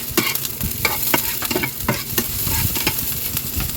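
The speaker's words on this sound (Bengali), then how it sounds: "এই তেলের মধ্যে আমি একটা পেঁয়াজ দিয়ে দিলাম পেঁয়াজটা ভেজে নিচ্ছি" Onion and chili fry in hot oil, a loud, close, continuous sizzle with crackles and soft stirring scrapes throughout.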